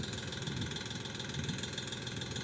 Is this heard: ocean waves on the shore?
no